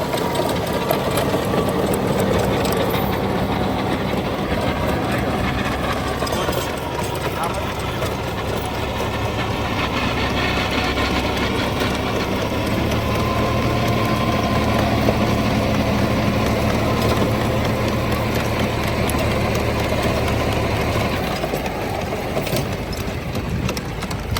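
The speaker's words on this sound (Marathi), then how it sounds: "रोटावेटरचा आता हाय गिअर टाकलेला आहे म्हणजे रोटावेटरचे आर पी एम वाढून येत आणि ट्रॅक्टर पण ए थ्री गिअरला चालू आहे" A John Deere 5210 tractor working a rotavator in high gear, its engine droning steadily with a whirring mechanical clatter from the tilling blades, continuous and close.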